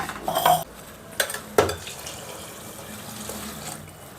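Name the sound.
water poured into rice pot for pulao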